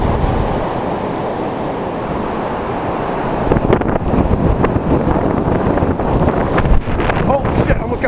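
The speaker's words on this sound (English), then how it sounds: "let's listen to that wind." Strong blizzard wind in New Hampshire roars steadily across the microphone in a loud, gusty rush, swelling harder partway through with buffeting bursts.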